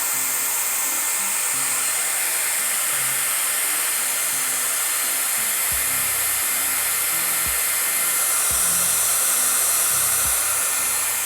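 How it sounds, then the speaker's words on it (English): A loud, steady blowing roar like a hair dryer from a photochemistry warming device used for film developing runs continuously, with a few low thumps and knocks underneath. "This is a photochemistry warming device."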